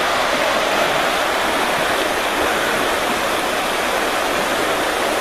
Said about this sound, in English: That's the river down there. That's where it joins in with the river.